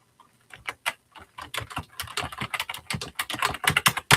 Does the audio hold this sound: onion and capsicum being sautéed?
no